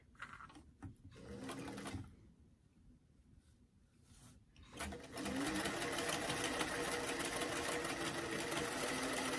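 A sewing machine stitches a doll dress seam from hem to armhole, its steady whirring run starting and stopping in short bursts before settling into a long continuous stretch, close and fairly quiet.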